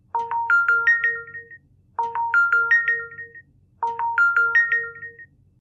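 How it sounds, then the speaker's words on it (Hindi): A mobile phone ringtone plays a bright, melodic electronic phrase three times in a row with short even gaps, clear and fairly close, with no one speaking over it. "मैं जरा फोन सुन लूं"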